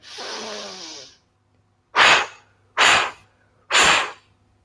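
During an underwater-themed kids yoga class, one long breath in, then three forceful blows out in an even rhythm, close and clear, with quiet pauses between.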